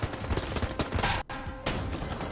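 Rapid gunfire from the video game Enter the Gungeon, a dense stream of loud, close shots with a brief silent gap midway before the firing resumes.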